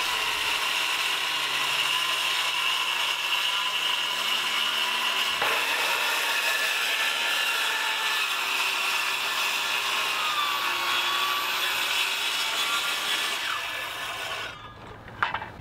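A saw with a raised blade cuts through wood for a hall table in several passes, making a continuous loud whine and rasp that stays steady for a long stretch before fading out, with a few knocks at the end.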